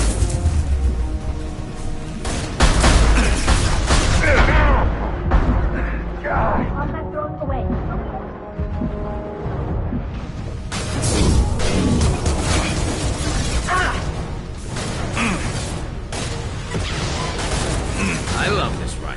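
Rifle fire in Mass Effect 2 on PS5: loud, dense bursts of shots and impacts crash through most of the stretch, easing briefly in the middle before resuming, layered with game effects and a speaking voice.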